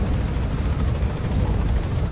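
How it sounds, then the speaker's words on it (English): Helicopter in the Metal Gear Solid V: The Phantom Pain video game, a steady loud rotor and engine rumble that fills the whole stretch with no pauses, heavy in the low end, heard alone without talk. "I'm getting into the chopper."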